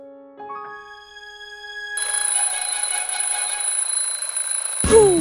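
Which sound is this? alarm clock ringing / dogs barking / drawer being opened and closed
alarm clock ringing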